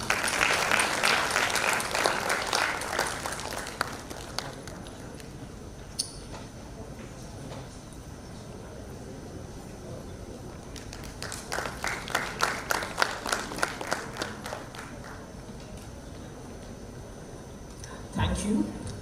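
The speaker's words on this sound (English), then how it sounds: "A round of applause for ma'am." An audience at an international conference on inclusivity breaks into applause in a strong opening burst, then gives a second round of clapping partway through, with talk around it in a large hall.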